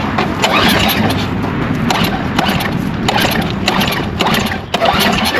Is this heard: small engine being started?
yes